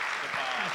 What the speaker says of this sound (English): Let's give the two Matts and the Bob a round of applause.